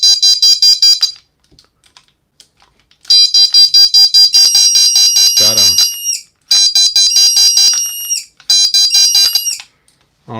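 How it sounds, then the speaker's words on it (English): A BraveStarr action figure laser tag toy fires loud, shrill electronic beeping bursts in several volleys with short gaps, and a falling zap sound mid-clip; someone speaks briefly. "It's like a laser tag for action figures."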